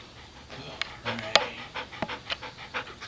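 A dog pants steadily and fairly close by, in a run of quick rhythmic huffs with one sharp click partway through and a soft whimper-like tone now and then.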